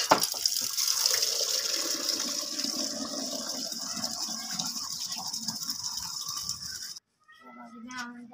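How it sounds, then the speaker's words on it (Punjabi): Hands are washed with soap under a running tap at home; a steady rush of water runs for about seven seconds, then cuts off abruptly, and a few short high cries follow in the quiet. "ਹੱਥ ਧੋ ਰਿਹਾ ਸਾਬਣ ਨਾਲ"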